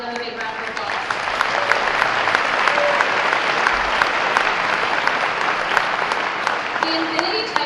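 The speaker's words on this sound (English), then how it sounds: "Can we all give them a big round of applause?" Dense, loud audience applause fills the hall at the Children's Hospital of Pittsburgh 125th Anniversary Gala, sustained steadily from start to finish with a crowd murmur beneath.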